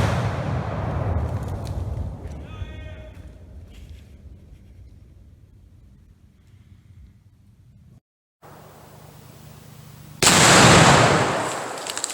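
Rifle shots set off a pound of Tannerite packed on a tree during yard work, giving a sharp, loud blast near the end that follows a quieter stretch of outdoor rumble and a few earlier impacts.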